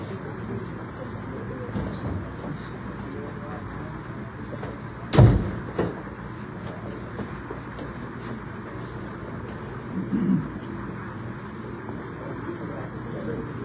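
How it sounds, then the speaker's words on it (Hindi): A vehicle's back door is opened with a single sharp thump partway through, followed later by a fainter knock, all over steady wind and outdoor rumble. "पिछला दरवाजा खोल देते हैं, उस तरफ से चलते हैं।"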